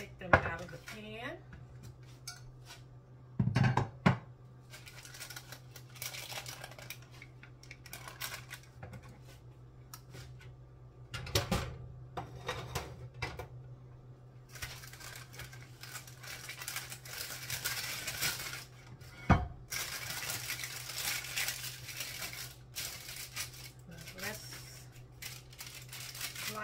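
Metal clinks and scrapes of a utensil working fudge brownies free from a baking pan, with intermittent clatter and a few sharper knocks against the pan, heard close up over a faint steady hum.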